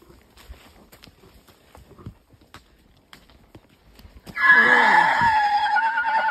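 Horses walk along a stony country path, faint sparse hoof clops at first, then a loud, drawn-out whinny takes over near the end.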